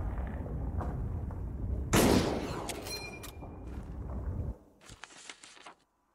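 A gunshot in the video game The Last Case of Benedict Fox, a loud, sharp blast that booms and crackles, then decays into rumbling debris and fades to silence.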